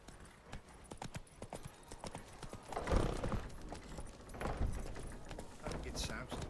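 Roach the horse's hooves clip-clop in The Witcher 3, an irregular run of hoofbeats mixed with faint jingling and game ambience, with a voice speaking briefly over it.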